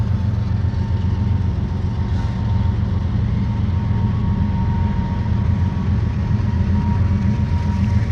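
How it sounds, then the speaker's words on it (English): A heavy, steady low rumble fills the whole stretch, a CN freight train rolling past nearby with constant mechanical drone and no pauses. "Oh, we got another train here, guys. You can hear it. This is a CN freight train."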